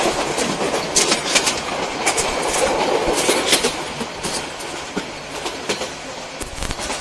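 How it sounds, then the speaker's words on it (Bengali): The Chittagong Mail passenger train runs at speed on the rails past Feni in Bangladesh, with loud, continuous rumbling and rhythmic clickety-clack wheel beats close by throughout. "ফেনী পার হওয়ার পর চট্টগ্রাম মেল ট্রেনটি বিশাল একটি টান দিয়েছে।"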